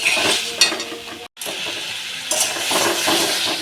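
Tomatoes and spices frying in a pan while being stirred, a steady close sizzle with scraping utensil strokes, broken by a brief gap of silence.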